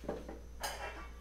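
A spoon stirring a pork and chicken tamarind stew in a cooking pot, giving a short clatter of utensil against the pot's side, close and fairly quiet, with no talking.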